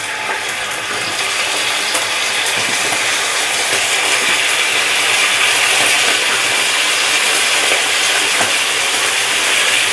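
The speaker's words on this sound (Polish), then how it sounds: "Tłuszcz już jest rozgrzany, wkładam kawałki mięsa na rozgrzany tłuszcz." Pieces of meat dropped into hot fat for a Hungarian goulash, making a loud, close, continuous hiss and sizzle that holds steady throughout without voices.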